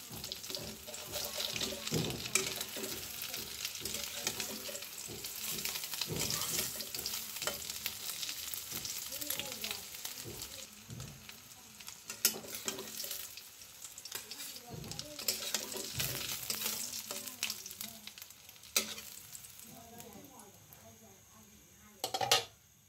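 Boiled eggs fry in hot oil with a continuous close sizzle, broken by stirring clatter and occasional sharper knocks, while a voice is heard at times.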